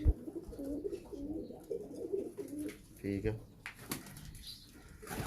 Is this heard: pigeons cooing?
yes